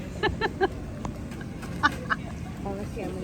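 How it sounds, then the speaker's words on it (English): Ducks coming over to feed on a rainy day in the Caribbean, giving a few short, close quacks in quick bursts over patter and background noise. "Other ducks come over."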